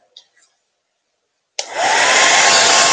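A hair dryer on high, drying a craft pumpkin, switches on after a few faint clicks and runs steadily with a loud, constant whooshing roar.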